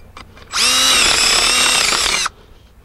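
Power drill whirring steadily for about two seconds at close range while fixing a sagging door, starting and stopping abruptly with no talk.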